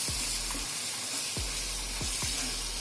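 Granular mawa (milk solids) cooks in a pan, giving a steady, even sizzle with a few soft scraping strokes, close and moderately quiet, with no talking.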